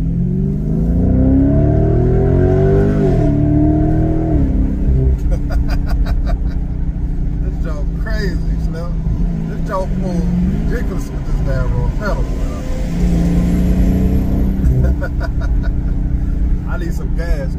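A Dodge Charger Scat Pack engine revs loud and close, rising and falling through several throttle blips, with someone talking over the engine for most of the clip.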